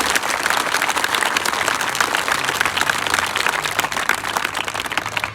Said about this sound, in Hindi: तो तालियां बजा के बताओ